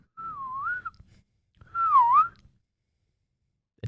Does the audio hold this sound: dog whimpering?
no